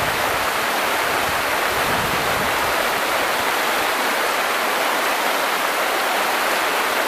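Foaming river water rushes loudly under the Trizolos bridge, a dense continuous roar of whitewater heard close and alone.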